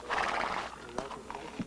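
Horse neighing during a mountain horseback trail ride in the countryside, a loud close whinny with a few sharp calls and hoof knocks after it.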